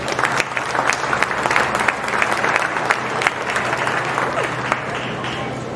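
Steady, loud applause from a crowd at a 4-H cattle show fills the whole stretch, honoring exhibitors of Angus heifers in a show ring.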